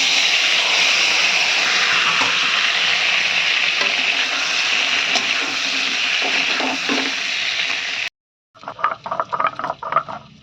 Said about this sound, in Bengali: আর এই যে আলুটাকেও ভেজে নেব।